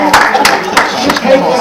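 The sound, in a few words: audience clapping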